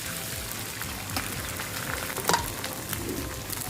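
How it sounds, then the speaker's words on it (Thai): Oil sizzles steadily in a hot wok while a utensil scrapes and stirs eggs, with occasional clinks against the metal. "ให้ทำการคั่วไข่นะคะให้มันสุกก่อนค่ะ"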